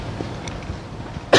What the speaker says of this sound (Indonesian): Sorry, gua masih batuk cuy.